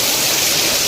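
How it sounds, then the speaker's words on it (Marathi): Heavy rain pours outdoors as a dense, even hiss of water, loud and unbroken throughout the short stretch. "मस्त पाऊस आलाय"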